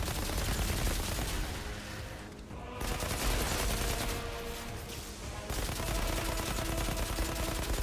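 Rapid automatic gunfire from the Outriders video game, dense continuous bursts with brief pauses, moderately loud and without talk.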